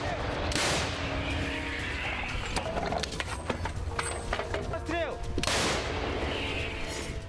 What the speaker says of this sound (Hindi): होवित्सर तोपों से फार